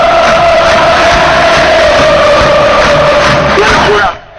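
Olimpia football supporters chant loudly and continuously inside a packed stadium, a dense roaring crowd song that fills the space and then cuts off abruptly near the end.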